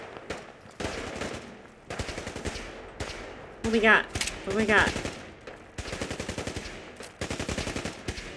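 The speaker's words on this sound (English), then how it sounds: "Gunshots." Gunfire from Fallout 4, with bursts of rapid shots and sharp single cracks repeating throughout, loud and close, under a player's speech. A robot enemy is present, and a louder burst rises in the middle.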